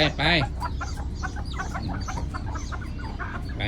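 Bantam chickens clucking close by in a busy, continuous jumble, with one louder squawk near the start over steady background noise.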